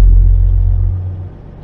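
A flatbed semi truck's diesel engine idles up to rebuild air pressure, a loud, deep, steady rumble close by that slowly eases and drops lower near the end.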